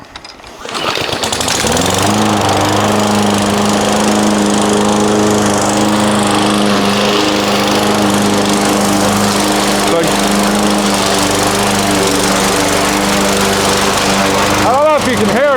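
A new DeWalt self-propelled lawn mower runs steadily and loudly through tall backyard grass, its engine drone starting up and then holding constant close by, and it briefly shifts near the end.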